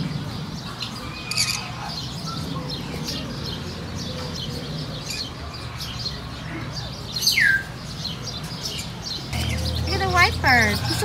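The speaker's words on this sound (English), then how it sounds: "That's a parrot." A parrot at a fruit stand in Florida City gives several short squawking calls amid steady outdoor background noise, with people talking nearby.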